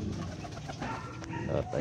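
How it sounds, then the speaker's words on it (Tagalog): Caged pet birds, pigeons or doves, coo softly and repeatedly in a backyard garden, close by, mixed with low background noise. "Mga alaga nating ibon, nalinisan na at napakain na."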